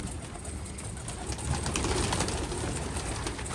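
An escaped pigeon coos softly over steady background noise, the low calls coming close together. No one speaks.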